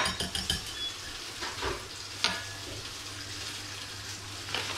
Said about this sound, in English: just whisk that up.